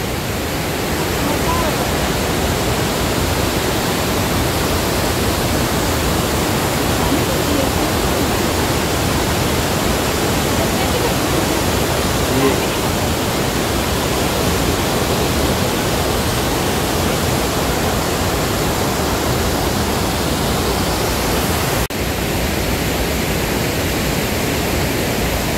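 A waterfall on the Amarawati River pours down with heavy flow, a dense, unbroken roar of rushing water that stays loud and steady throughout.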